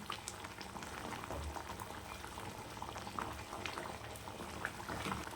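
Egg curry gravy simmers with whole eggs in a pan, a quiet continuous bubbling with small pops and gurgles, close and steady throughout.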